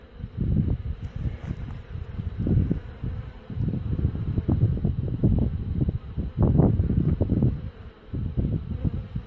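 Honey bees buzzing densely around hives in early spring while bringing in pollen, a steady loud drone with swelling and fading passes close to the microphone, plus light wind noise.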